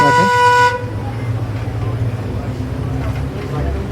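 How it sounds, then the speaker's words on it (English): A loud, near horn blast sounds for under a second at Silver Springs, then cuts off. A rumbling engine-like drone and background noise continue afterward. "You're going to hear that horn again here in just a second."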